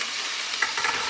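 Potatoes fry in oil in a pan with a dense, steady close sizzle, briefly disturbed by a stir of the pan partway through, with no speech.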